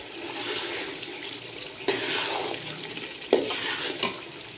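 Chicken with peas and potatoes sizzling and frying in a pan with steady stirring, two sharper scrapes of a spoon against the pot near the middle and end, close and moderately loud, with no voices.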